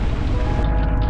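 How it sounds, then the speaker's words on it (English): Heavy rain pours steadily onto a sailboat caught at the edge of a storm, a dense continuous wash of drumming water with low rumble underneath, loud and close throughout with no voices. "A lot of rain."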